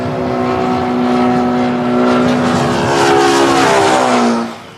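An airplane passing near Hong Kong airport: a loud, sustained engine roar with strong tonal whine whose pitch slides downward as it goes by, swelling then fading at the end.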